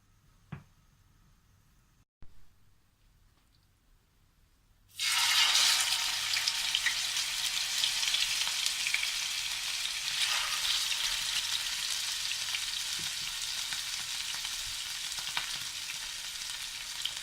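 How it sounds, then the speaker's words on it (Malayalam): Fish pieces hit hot coconut oil in a pan for a Kerala fish molee and set off a sudden loud, close sizzle. The sizzle keeps crackling steadily after a few seconds of near silence with light kitchen clicks. "ഇതിലേക്ക് മീൻ പൊരിക്കാൻ ആവശ്യത്തിന് വെളിച്ചെണ്ണ ചേർത്ത് കൊടുക്കാം"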